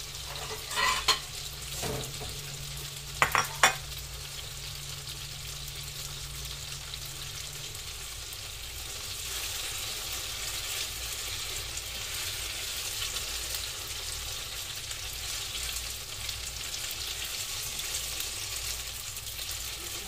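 Food sautéing in a pan gives a steady, soft sizzle throughout, with a few brief clanks of stirring utensils early on.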